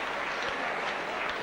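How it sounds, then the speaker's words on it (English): A crowd at a rugby league match gives a sustained round of applause, with dense clapping that runs steady and fairly loud through the whole moment. "George Mann receives a tremendous round of applause as he comes over here to the popular side"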